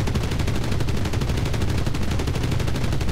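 Sustained, evenly spaced machine-gun fire rattles nonstop in the game Enlisted, a dense, loud stream of shots with no talking.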